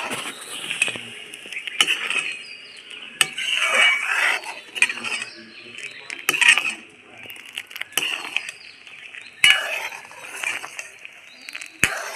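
Homemade tomato sauce is stirred steadily in a pan, the spoon scraping and clinking against the metal in an uneven rhythm, with soft bubbling between the strokes.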